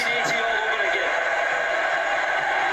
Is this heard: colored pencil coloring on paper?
no